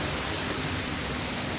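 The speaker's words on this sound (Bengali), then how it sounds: "এটা একটা ছোট ঝর্ণা," A small waterfall near cave gardens on a hillside, heard as a close, steady broadband rush of falling water with no break and no voices.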